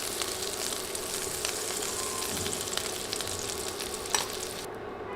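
Potato pieces fry in hot oil in a pan for a cauliflower curry, a steady crackling sizzle with occasional stirring scrapes, close and continuous.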